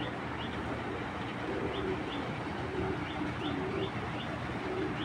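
A silver beji female pigeon cooing in soft, repeated low-pitched phrases, close by, over a steady background hum.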